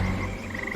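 Frogs croak in a continuous low, throaty chorus, a dense steady sound effect with no voices.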